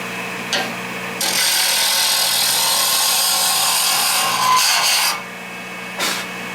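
A wood lathe turns a feather pen blank as a tool works its edges, giving a loud steady scraping rasp that runs for several seconds, then eases off, with a short burst of cutting near the end.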